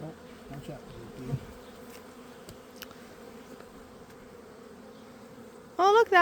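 Steady buzzing of honeybees circling an open beehive, close and continuous, with some faint handling noises and a brief louder burst at the very end.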